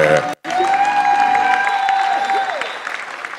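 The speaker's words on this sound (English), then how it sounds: "Go on, give another round of applause" Audience applause at a teachers' union 100th anniversary proclamation event, loud crowd clapping with a sustained tone and some cheering, briefly cut before resuming.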